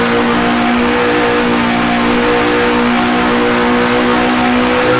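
1960s Formula 1 race car engine in Grand Prix Legends at the Belgian Grand Prix, a loud, sustained rasping drone holding a steady pitch, close and continuous with no voices.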